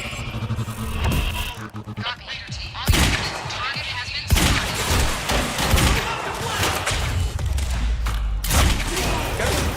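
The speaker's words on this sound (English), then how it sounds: "four shots to take those guys down with a heavy pistol" Heavy pistol shots in the video game Quantum Break: a few loud, punchy blasts ring out amid dense, continuous in-game combat noise and rumble.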